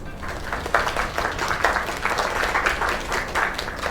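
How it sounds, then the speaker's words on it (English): Applause from an in-game audience in the video game Lake, a steady patter of clapping with a few louder bursts, moderately close and heard alone. "Another round of applause."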